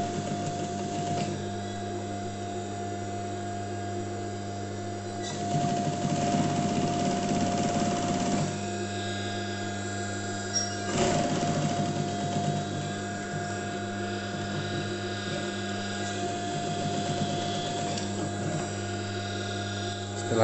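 A sewing machine stitches a fabric pocket with a continuous mechanical whir and hum. The run swells louder in the middle stretch, with short pauses and restarts between bursts of stitching.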